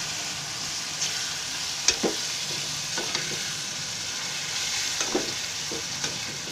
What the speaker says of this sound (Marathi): आणि आता मी त्याच्यामध्ये कोळंबी टाकते आहे.